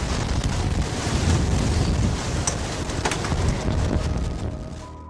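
Strong winds roar near an F4 tornado, a loud, steady broadband rush buffeting the microphone for the whole stretch, with a few faint higher chirps mixed in.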